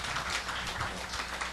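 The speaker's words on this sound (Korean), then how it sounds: "박수 부탁드립니다" Applause from a church afternoon gathering, a steady dense wash of many hands clapping throughout, moderately loud with no talking over it.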